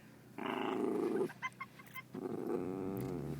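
A small Pomeranian-mix dog growls in two sustained rumbling bursts with short snarly sounds between them, faint and fairly close, with no talking.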